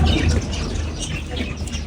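Birds in a bird shop at the Souq Waqif market in Qatar make dense, overlapping chirps and coos, loud and close within a busy wash of market noise.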